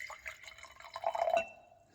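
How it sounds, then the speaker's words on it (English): Water pours briefly into a jar, filling it about a quarter full: a short, close, gentle trickle and splash that swells and then fades, alone in a quiet room. "fill up your jar about a quarter way full of water."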